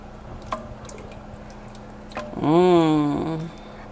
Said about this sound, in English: So I'm gonna stir that all in